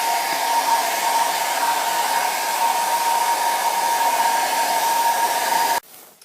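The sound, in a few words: fan blowing air to dry a wet painting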